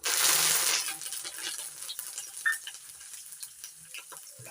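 Chana dal and curry leaves frying in hot oil in a pan while making suji upma: a loud, bright sizzle at the start that settles into steady, softer crackling, with a few clinks from stirring.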